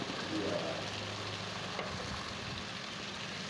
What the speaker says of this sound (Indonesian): Ditumis sampai warna bawang putihnya berubah dan aromanya wangi.